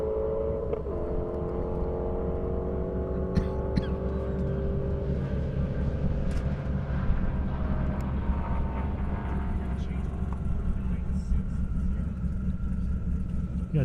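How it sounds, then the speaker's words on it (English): Camaro and Corvette drag racing on an airstrip at the Indy Airstrip Attack event: a loud, continuous engine roar with rising and shifting tones that holds for about fourteen seconds, with faint crowd or announcer voices mixed in. "Camaro against Corvette. That's what you see on the launch pad right there."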